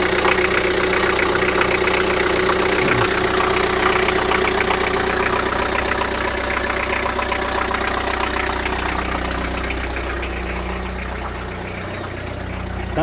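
A 1998 Vauxhall Frontera 2.5 TDS diesel idles steadily after a cold start, its loud continuous clatter holding roughly constant before easing slightly toward the end.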